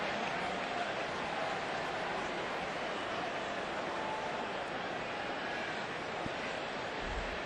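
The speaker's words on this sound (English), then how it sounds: "Crowd has quieted down considerably" Low, steady murmur of a baseball stadium crowd in the fourth inning, a dense broad wash of distant voices that holds evenly throughout with no single sound standing out.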